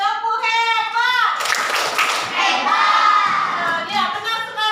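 A class of children claps together in a short rhythmic burst, framed by lively young voices talking and chanting before and after.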